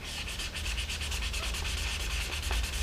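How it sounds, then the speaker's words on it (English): A piece of jewelry is sanded by hand with rapid back-and-forth strokes, a steady close rasping scrape repeating in quick even rhythm with no talk. "sanding cross grain each time, and that way you're constantly sanding"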